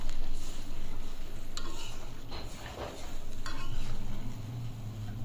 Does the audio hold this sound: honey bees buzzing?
no